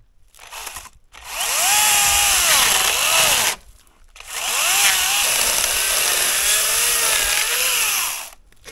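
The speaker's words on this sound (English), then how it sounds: "Makita chainsaw out, brand new" A brand-new Makita 18-volt battery chainsaw cuts wood outdoors in the Flinders Ranges, South Australia, in two long, loud bursts, its motor whirring and wavering in pitch as it bites, with short quiet gaps between.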